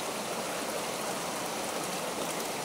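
A flowing stream in a remote area of Zambales, a steady broadband rush of running water, close and continuous with no break.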